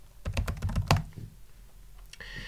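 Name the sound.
typing a sudo password on a computer keyboard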